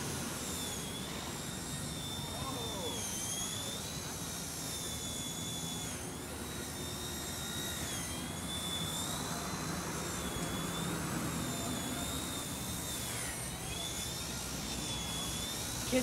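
A Blade mCPX micro RC helicopter with a worn main motor flies in a backyard, producing a steady high-pitched electric whine and rotor buzz that rises and falls in pitch as it maneuvers close by.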